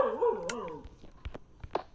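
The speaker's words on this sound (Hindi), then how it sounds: "ये भौंक क्यों रहा है कुत्ता" A dog in the Minecraft video game barks and whimpers, a couple of sharp yips followed by short whining cries, close and clear over a quiet game background.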